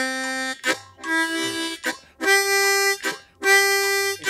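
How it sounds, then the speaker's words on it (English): Blues harmonica played with tongue-blocking, pushing rhythmic swung chords in a repeating riff; bright, buzzy reed chords swell and cut off in four loud, close phrases with no talking. "Making it swing and using the tongue to force the chords, it'll sound like this."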